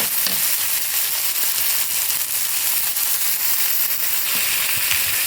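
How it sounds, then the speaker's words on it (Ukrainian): Beef ribs frying in a pan while a Georgian kharcho is being made, a steady close sizzle with crackling pops running through the whole stretch, no voices over it. "І так, наше м'ясо підсмажилося, гляньте, яке воно гарнесеньке."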